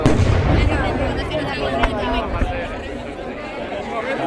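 Fireworks burst over Móstoles, Spain, during a September night display, a dense rumble of booms and crackles with a couple of sharper pops, while excited voices chatter nearby.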